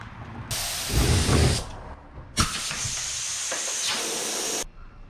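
A paint spray gun hisses in two long, steady bursts, broad and close, the first with a sputtering low rumble, separated by a brief pause, while painting the front clip of a 1977 Datsun.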